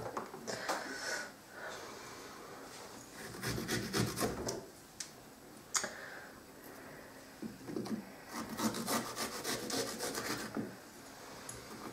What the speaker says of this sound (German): Das sägen wir nochmal lang.